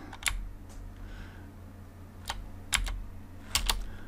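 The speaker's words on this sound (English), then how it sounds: "we'll start typing in New York" Someone types on a computer keyboard while setting up a Raspberry Pi server, producing sparse clusters of sharp key clicks with pauses between them, close and moderately quiet, with no voices.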